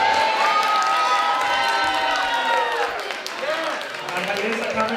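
A large outdoor crowd applauds and cheers for Mayor Carmen Yulín Cruz in Holyoke, with a steady wash of clapping, whistles and shouts, sustained and loud throughout.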